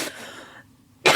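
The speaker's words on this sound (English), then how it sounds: "I literally just sat here waiting for her to stop her cough attack" A woman's cough attack: a harsh burst of coughing, a short rasping tail and brief quiet, then another loud, close cough right at the end.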